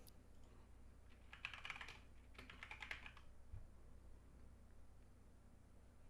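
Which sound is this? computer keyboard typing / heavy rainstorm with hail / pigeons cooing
computer keyboard typing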